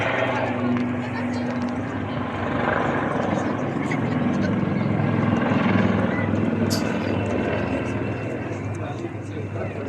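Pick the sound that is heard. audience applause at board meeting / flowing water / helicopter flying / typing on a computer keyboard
helicopter flying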